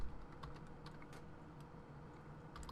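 Quiet, irregular keystrokes on a computer keyboard while entering Django code, light clicks in a loose rhythm over faint room noise, with no talking.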